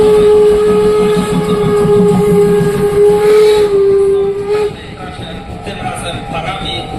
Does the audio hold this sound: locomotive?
yes